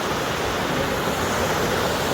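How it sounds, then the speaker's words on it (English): A small waterfall pours into the Wilson River, producing a steady, dense rush of water that fills the scene continuously with no pauses. "There's the Wilson River, and a nice little waterfall coming in right there."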